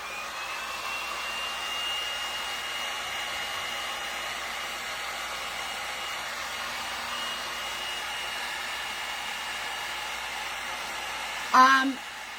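A hair dryer blowing steadily on a craft wall hanging made from a metal heart and a cardboard heart, a constant close whooshing hum that runs throughout, ending in a brief clunk.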